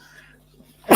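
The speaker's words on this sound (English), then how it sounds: "I always have sneezing when I do the show." A single sudden sneeze from a man hosting a spoken meditation and reading session, loud and close, bursting out at the very end after near silence.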